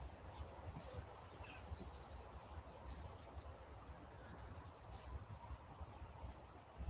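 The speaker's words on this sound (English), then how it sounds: "You hear the birds, guys?" Faint birdsong, with scattered chirps and tweets and a few brief sharper calls, sits over a steady outdoor background hum, and nobody speaks.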